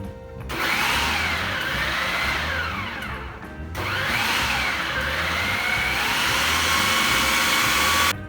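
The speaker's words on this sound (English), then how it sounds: "we're gonna use our food processor" Food processor grinding lobster meat, a loud, steady motor whine with a rough churning texture, running in two long bursts separated by a brief dip, close by with no talk.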